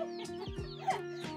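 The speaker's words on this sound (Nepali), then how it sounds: "कुखुरा लास्टै हल्ला गर्छ" A chicken clucks close by in a quick run of short, sharp calls lasting just over a second.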